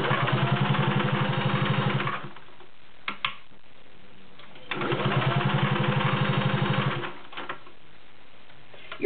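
A Singer 500A Slant-O-Matic Rocketeer sewing machine runs in two bursts, stitching through eight layers of cotton with a fast, steady mechanical chatter, pausing briefly between runs with a few clicks.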